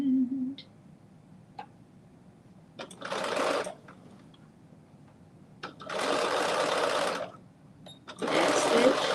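Sewing machine back-stitching on ruffle pants, close and loud, running in three bursts of rapid needle whirring with quiet pauses and small clicks between them.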